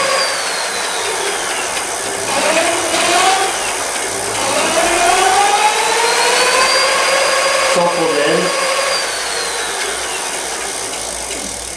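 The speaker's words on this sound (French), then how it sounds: "Je contrôle la vitesse de rotation du moteur." Electric bike hub motor driven through a repaired controller by a Hall-effect throttle, its whine sweeping up and down in pitch as the speed changes, steady and close throughout.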